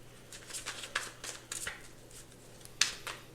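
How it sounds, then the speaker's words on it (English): Tarot cards are shuffled by hand in a series of quick riffling, papery bursts at steady close range, with a couple of sharper snaps of card edges near the end and no talk over it. "Yeah, we'll just do one more shuffle."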